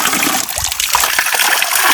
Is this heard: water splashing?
yes